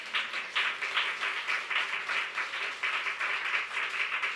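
Steady applause from a church congregation during a sermon, a dense patter of many hands clapping continuously at an even level throughout, with no talking.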